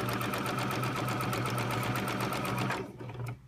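A sewing machine stitching fabric for a bow tie runs in a fast continuous whir of rapid needle strokes, then slows and stops near the end.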